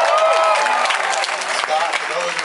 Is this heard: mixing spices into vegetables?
no